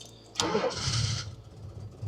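A Mercedes W123 engine cranks briefly and catches after an alternator and belt replacement, then settles into a low, even idle close by.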